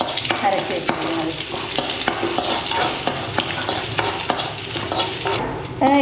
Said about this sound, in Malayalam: ഇനി ഉള്ളി ചെറുതായിട്ട് അരിഞ്ഞതും കറിവേപ്പിലയും കൂടെ കൊടുക്കാം. ഇതൊന്ന് മൂത്ത് വരട്ടെ.